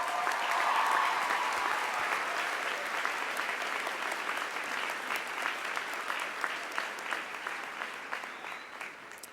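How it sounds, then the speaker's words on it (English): Graduates at a Miami Dade College commencement on the Kendall Campus applaud in a sustained, dense wash of clapping that fills the hall, loudest at the start and tapering slightly over about nine seconds. "Please give yourselves a round of applause."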